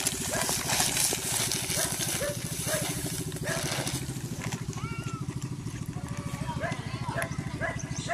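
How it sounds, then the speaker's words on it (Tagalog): Rhythmic chugging of a boat motor at a coastal boat blessing, a steady low pulsing throb that runs throughout, with people talking over it. "naririnig ko na po yung motor"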